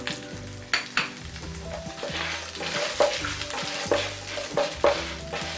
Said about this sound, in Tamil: கொஞ்சம் மீடியமான ஃப்ளேம்ல ஃப்ரை பண்ணிப்போம்.